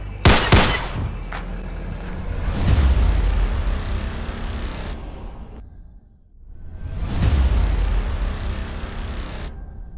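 Gunfire at a shooting range on Jeju Island, Korea: a quick pair of sharp, loud shots at the start, then heavier booming blasts with long reverberant tails, separated by a brief near-silent gap.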